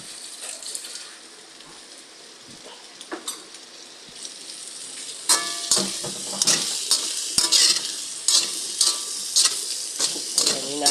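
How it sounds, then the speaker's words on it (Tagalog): Vegetables stirred in a cooking pot of Filipino paksiw with meat and broth, a spoon scraping and clattering in repeated bursts over a soft simmering sizzle, close and fairly loud, growing busier in the second half. "hinahalo-halo ni Mami Angel para maluto yung gulay"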